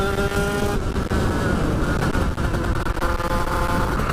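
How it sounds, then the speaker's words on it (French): A 50cc motorbike engine running close by, a loud steady buzzing drone that holds without pause, its pitch shifting slightly as the throttle changes. "ça fait plaisir de pouvoir rouler avec une moto qui tourne."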